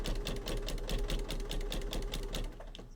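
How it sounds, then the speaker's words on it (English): A sewing machine stitches a quilt in a steady, rapid mechanical chatter that runs close and loud for most of the stretch, easing off near the end. "And very simply, we are going to stitch"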